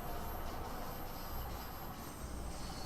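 A train running in the video game Train Sim World 2, a continuous dense rumble with steady broadband hiss and no talk, even in level throughout.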